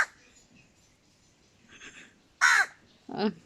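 Crows cawing near a rooftop terrace, with a few scattered harsh caws, two loud ones close together near the end, and faint background sounds between them.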